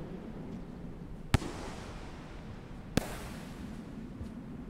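Two sharp, loud explosive bangs from explosive spears detonating in the video game Rain World, about a second and a half apart, each followed by a short fading rumble over a steady low background.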